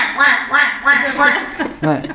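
A person's voice imitates a duck, giving four evenly spaced nasal quacks followed by two shorter, rougher ones, close and loud.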